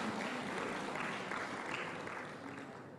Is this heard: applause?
yes